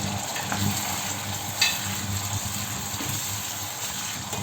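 Fish and vegetables frying in a pan, a steady close sizzle with a brief sharper crackle and faint stirring scrapes, no talking.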